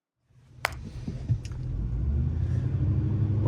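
Truck towing a trailer rolling into a wood yard, a low engine rumble building steadily after a couple of sharp knocks, close and continuous.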